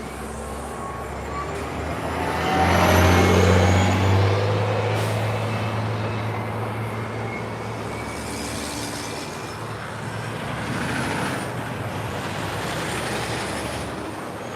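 A TTC Orion hybrid bus passing by on a city street, a loud low engine rumble swelling as it nears and fading away, with a second vehicle swell later and faint high whines from the drivetrain.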